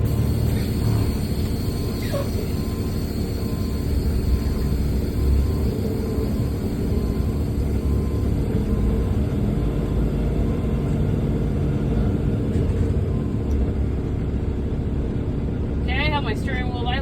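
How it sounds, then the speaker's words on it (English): A truck rolls forward slowly at about 5 mph and then halts during an air brake test, a steady engine and road rumble running throughout with a brief hiss near the end. "I'm going to drive forward 5 miles an hour, and then I'm going to stop"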